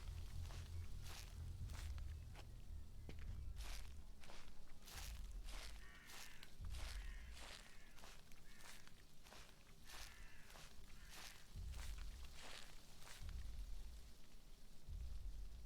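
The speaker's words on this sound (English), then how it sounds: "I hear that stomping thing, that big giant guy" Heavy, slow stomping footsteps of a giant robot in the stealth game Sir You Are Being Hunted, a steady series of thuds with low booming impacts in clusters, heard against a hissing rain-like outdoor ambience with no talking.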